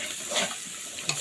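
Drumstick flowers fry in a pan until browned, giving a soft, steady sizzle with light stirring scrapes and a small clink near the end.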